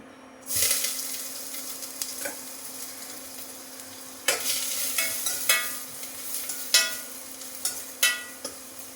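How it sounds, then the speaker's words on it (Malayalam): Chopped carrot dropped into hot oil for upma bursts into a sizzle that settles into a steady fry, followed by repeated scraping stir strokes and spatula knocks against the pan, close and clear with no voices. "ഇനി നമ്മളിതിനകത്തേക്ക് ആദ്യമായിട്ട് ഇടുന്നത് നമ്മൾ ഈ അരിഞ്ഞു വെച്ചിരിക്കുന്ന ക്യാരറ്റാണ്"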